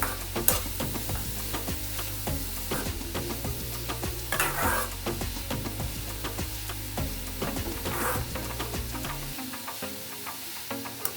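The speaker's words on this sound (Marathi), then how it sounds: "आता हे गाजर छान तुपामध्ये भाजून घ्यायचंय दोन ते तीन मिनटं भाजून घेणार आहे मी" Red carrots roast in ghee while a spoon stirs them round the pan, a continuous sizzle broken by regular scraping strokes, close and fairly loud with no voices; the stirring stops near the end.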